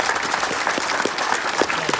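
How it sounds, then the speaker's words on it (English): Brief burst of steady clapping from a crowd at a Marine master gunnery sergeant's retirement ceremony, honoring Marines of the 15th MEU and a band, fairly close with scattered sharp claps. "Can you please give them a round of applause?"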